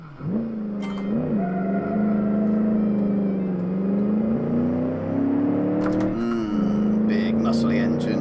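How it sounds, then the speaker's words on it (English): Heavy 1956 Gasmea muscle car in a racing video game at Road Atlanta, its big engine droning loud and steady with rising and falling revs throughout, briefly dipping around gear changes while a voice talks over it. "Big muscly engine."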